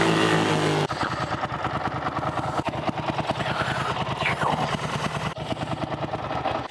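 A Ducati Monster 600 motorcycle pulls away under hard acceleration, its loud, close, throbbing engine note rising through the revs and then carrying on steadily, with no talk over it.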